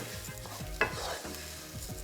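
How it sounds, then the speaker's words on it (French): Brown rice being stirred with onions in a cooking pan for a miso risotto, a soft steady scraping and stirring with a faint sizzle underneath and one sharper clack partway through. "on va commencer à venir remuer le riz avec les oignons"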